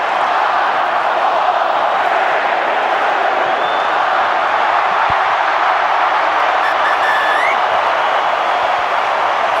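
A packed stadium roars as Queensland clinch the 2011 State of Origin rugby league series in Game 3, a loud, sustained wall of cheering and applause that never lets up.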